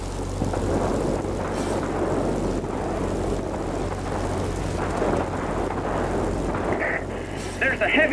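A thunderstorm in the World of Warplanes flight game: a steady loud roar of rain and rumbling thunder blends with aircraft engine drone for several seconds, with brief brighter bursts near the end.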